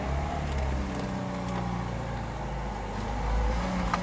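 A 1991 Lada Niva 1600 ute engine drones low and steady while the vehicle moves slowly on barely any throttle, a close, rumbling hum with no talk.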